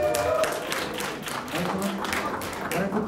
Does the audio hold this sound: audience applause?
yes